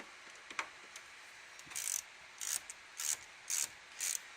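An 8mm ratchet tightens hose clamps while an oil catch can goes into a 2010 Dodge Challenger SRT8 6.1L Hemi. A few light clicks are followed by a steady run of quick, rasping ratchet bursts, close and fairly quiet.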